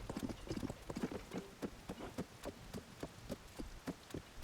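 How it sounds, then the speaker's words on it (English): Horses clip-clop in Tears of the Kingdom with a quick, even beat of hoofsteps, moderately close, over soft patter that sounds like rain. "there's some horses over there."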